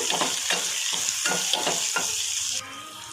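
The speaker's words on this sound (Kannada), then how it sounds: "ಕರಿಬೇವು, ಬೆಳ್ಳುಳ್ಳಿ ಜಜ್ಕೊಂಡು ಹಾಕ್ತಾಯಿದ್ದೀನಿ. ಸ್ವಲ್ಪ ಇಂಗು ಹಾಕ್ತಾಯಿದ್ದೀನಿ. ಇದನ್ನು ಸ್ವಲ್ಪ ಫ್ರೈ ಮಾಡ್ಕೋಬೇಕು." Curry leaves, crushed garlic, mustard seeds and asafoetida sizzle loudly in a pan of hot oil for a tempering, with rhythmic spoon scrapes about twice a second; the stirring stops near the end and the softer sizzle carries on.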